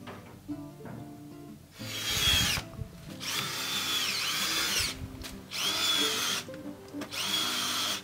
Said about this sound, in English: I'm having to use my rechargeable cordless drill, which isn't the best thing to use